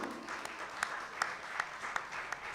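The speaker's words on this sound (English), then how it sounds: "So, round of applause for that." Applause from an audience at a Wild Style 40th anniversary induction event, fairly faint and distant, a steady patter with a few sharper individual claps standing out.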